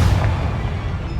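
A loud, short blast from the Confringo fire spell in Hogwarts Legacy, a booming burst that rumbles low and then fades over about a second, with no talk.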